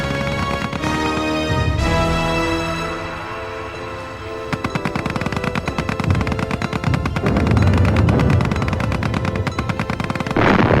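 Rapid machine-gun bursts and heavy artillery blasts from a Battle of Verdun battlefield scene, loud and continuous, with rattling volleys building in density toward the end.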